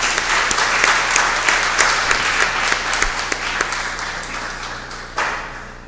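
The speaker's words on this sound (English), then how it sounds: "So let us just do a good round of applause to everyone." A moot court competition audience breaks into a sustained round of applause, dense clapping that holds steady and then thins out toward the end, with a brief louder burst near the close.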